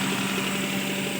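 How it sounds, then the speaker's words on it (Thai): A car engine running on gas with a fuel injector removed revs in a brief, steady burst. The sound is a close, dense mechanical drone with slight roughness. "เร่งเครื่องนะครับ"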